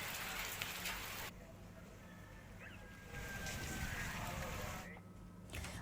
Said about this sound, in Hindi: आसमान में काले बादल छा गए और तेज गर्जना के साथ बारिश हुई है